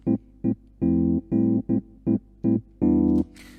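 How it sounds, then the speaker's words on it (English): Ableton's built-in Mark II electric piano plays short, flat chord stabs in a choppy rhythm, each brief and evenly loud, with a slightly longer final chord; close, dry and alone without voices. "This is just the natural electric piano Mark II that's built into Ableton."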